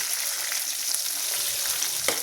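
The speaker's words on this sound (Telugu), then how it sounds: "ఫ్రెష్గా దంచి పెట్టుకున్న అల్లం వెల్లిగడ్డ కొంచెం నూనెలోనే వేసేయండి" Freshly pounded ginger-garlic paste frying in hot oil for bitter gourd pickle, a steady close sizzle with faint stirring and a brief clink near the end, no talking.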